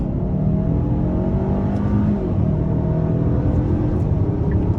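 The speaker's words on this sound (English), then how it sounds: "we'll try an acceleration run in sport mode" 2022 Kia Sorento SX 2.5T AWD SUV accelerating hard in sport mode in second gear, heard from inside as a loud rising engine rumble and whir that climbs steadily in pitch for several seconds.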